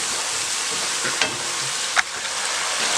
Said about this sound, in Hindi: इस तरह से मिर्चें अच्छी तरह से भून जाएंगी।